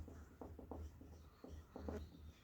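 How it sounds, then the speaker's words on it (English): A pen writing out a maths question on paper: a series of short, soft scratchy strokes in irregular bursts, close and quiet, with no talking. "Write down the question."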